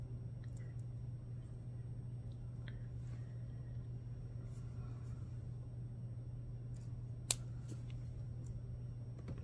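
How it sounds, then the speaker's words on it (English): A single sharp snip of cutters trimming excess beading wire from a finished bracelet, heard once near the end over a steady low hum in a quiet room. "we're going to trim this extra little bit of wire off here"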